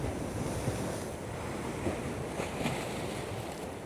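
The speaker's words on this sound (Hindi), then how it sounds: "यहाँ सुराख हुआ है समंदर में, और ऐसे प्रेशर से आ रहा है इधर पानी" Sea waves crash and surge continuously at Mundywari Beach in Balochistan, with water forcing through a gap in the rocks under heavy wind noise, with no voices.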